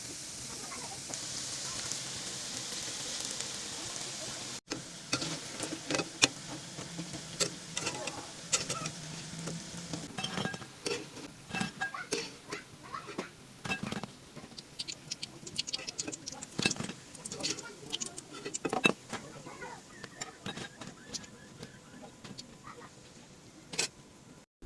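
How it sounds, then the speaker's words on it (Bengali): Potato nimki fry in hot oil, giving continuous close crackling and popping with irregular sharp bursts, while a voice talks at times. "এখন সেম ভাবে এক এক করে আমি সবগুলো নিমকি গরম তেলে ভেজে নিচ্ছি।"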